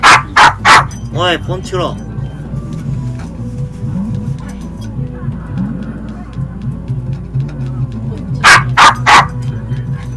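A dog barks loudly and close in two sharp bursts at the start and end, with someone speaking over the quieter stretch between, in a room where someone is streaming a Pokémon FireRed game.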